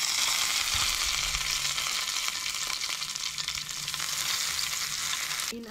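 Curry leaves hiss and crackle in hot oil for a tempering, a dense steady sizzle that holds loud throughout and ends with a brief clink near the close.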